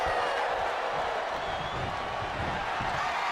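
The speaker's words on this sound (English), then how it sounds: "As the crowd starts to lose their mind here" A wrestling video-game crowd roaring and cheering, a steady broad wall of noise with faint claps and shouts, heard on its own without talking.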